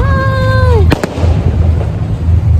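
Fireworks exploding near a church, a loud close boom with sharp bursts over steady background rumble, with a rising whistle just before the blast.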